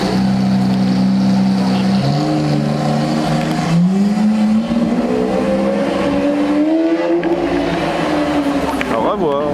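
A Lamborghini Aventador supercar on the streets of Knokke, its engine droning and rising in pitch as it revs and accelerates, loud and close, with people talking over it.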